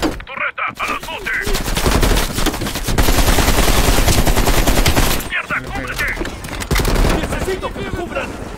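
Sustained heavy automatic turret fire in a shooter video game, loud and continuous with rapid overlapping bursts, broken briefly once before resuming, with a player's voice shouting over it.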